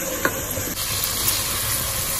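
Masala frying in a pan gives a steady close sizzle and hiss, with a few scraping stirs of a spoon and no talking.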